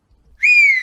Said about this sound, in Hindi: सास को देखते ही दोबारा सीटी बजाने लगती है।